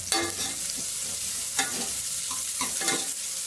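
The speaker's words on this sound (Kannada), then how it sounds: "ಒಗ್ಗರಣೆ ಹಾಕ್ತಾಯಿದ್ದೀನಿ" Spices being tempered in hot oil for a home-cooked dish, a continuous crackling sizzle with several sharper bursts of spattering and stirring scrapes, close and fairly loud, no talk.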